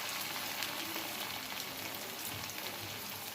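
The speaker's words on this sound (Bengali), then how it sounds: "লো টু মিডিয়াম ফ্লেমে আমি এটাকে ভাজবো" Shaped pieces frying in oil over a low to medium flame, giving a soft, even, continuous sizzle heard close but fairly quiet, with no voices.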